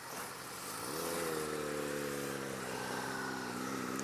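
A 2018 Suzuki SV650 motorcycle engine runs steadily, its droning pitch rising and then holding as it pulls, heard faintly and somewhat muffled with constant background rush.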